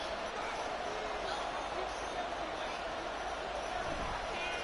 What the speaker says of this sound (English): this crowd gets up making some noise